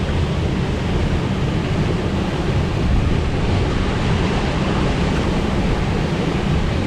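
Strong wind roars over the North Sea off Cleethorpes and Grimsby as waves break around an inflatable kayak, making a loud, steady wash of surf and wind buffeting with no letup.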